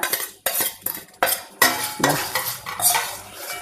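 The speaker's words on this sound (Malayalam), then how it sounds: "ഒരു നുള്ള് മസാലപ്പൊടി ഇട്ടു നന്നായിട്ടൊന്നിങ്ങനെ ഇളക്കുക" Masala powder stirred into a dish in a pan, with a few loud, close metal scrapes and clanks of a spoon against the pan over a faint sizzle, and no voices.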